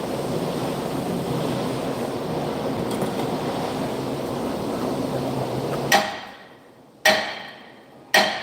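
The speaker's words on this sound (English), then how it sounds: "I love these hammers from Icon." An Icon hammer strikes the brake parts of a 2019 VW Jetta GLI three times, each blow a loud, sharp metallic bang ringing briefly, preceded by a steady hiss of background noise that cuts off before the first strike.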